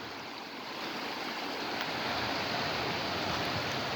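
Floodwater rushes down a desert wash near Sedona after heavy rain, a steady, fairly quiet roar of flowing water with no other sounds.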